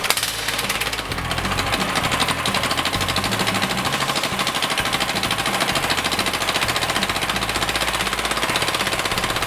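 A Predator 420cc engine on an off-road go-kart runs through its break-in, a loud, fast, hammering rattle of firing strokes that stays steady and close throughout, with no voices.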